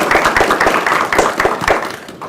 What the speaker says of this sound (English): How about a round of applause for Dr. Jeff